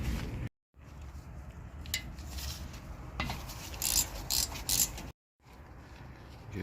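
A hand tool works two 7mm hex bolts out of the front brake on a 2018 Audi Q3 2.0T: close mechanical creaks and ratchet-like clicks in uneven bursts, broken by two brief silences.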